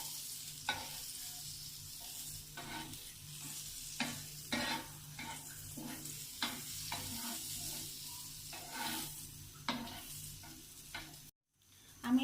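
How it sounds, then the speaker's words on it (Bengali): Butter melting in a hot saucepan for an omelette, a faint steady sizzle broken by repeated soft spoon scrapes and taps, then a brief silent gap near the end. "আমি সসপ্যানটি গরম হয়েছে, আমি এর মধ্যে একটু বাটার দিয়ে দিচ্ছি"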